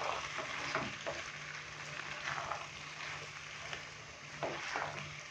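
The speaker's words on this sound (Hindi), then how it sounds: "गोभी और गाजर की सब्ज़ी डालने के बाद अभी हम इसको अच्छे से मिक्स करेंगे।" Cauliflower and carrot pieces for a dhaba-style mixed vegetable sabzi fry in a pan with a soft, continuous sizzle, broken by intermittent scraping stirs; no speech.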